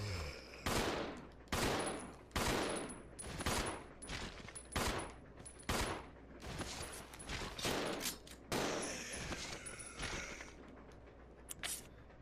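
A partner character fires a gun repeatedly in Resident Evil Zero, with about a dozen loud, sharp shots spaced roughly a second apart, followed by a brief denser burst and a short final crack.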